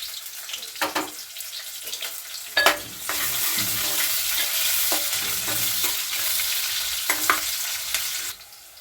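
Chopped onion, green chilli and curry leaves hit hot oil in a pan and break into a loud, steady sizzle, with a few stirring clanks and splashes before and during the frying.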